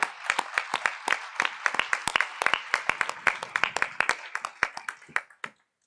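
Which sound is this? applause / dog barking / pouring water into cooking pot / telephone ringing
applause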